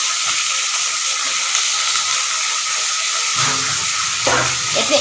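Green chillies fry in hot oil in a pan for a radish and pea dal, giving a steady, close hiss and sizzle that keeps going throughout, with a brief rustle of stirring near the end.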